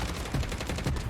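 Kilo assault rifle firing in Call of Duty: Mobile, a rapid sustained burst of automatic gunfire with evenly spaced shots, fairly quiet and continuous throughout.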